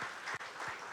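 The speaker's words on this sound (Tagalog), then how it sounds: "Pwede po bang pumalakpak ang lahat ng mga excited?" Scattered clapping from a church congregation, fairly faint and uneven, with a few distinct claps standing out from a soft background wash and a brief drop partway through.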